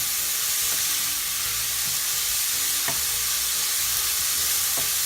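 Ginger and garlic sizzle loudly in a very hot pan, a steady close frying hiss with a few soft stirring knocks and no voices.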